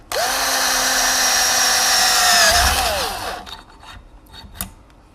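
A power drill whines steadily at high speed, its pitch dipping as it bores through material, then winds down and stops, leaving faint clicks.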